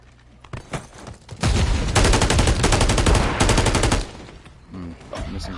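Sustained automatic weapon fire in Call of Duty Modern Warfare 3, a loud rapid burst lasting about two and a half seconds after a few scattered shots, trailing off into quieter game noise, with no speech.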